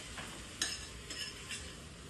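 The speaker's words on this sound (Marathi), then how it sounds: "चांगली अशी मिक्स करून घेऊया भाजी आपण" Kokani raan bhaji, a vegetable dish, stirred and mixed in a pan, a faint steady sizzle with a few soft scraping strokes of the spoon, quiet and close.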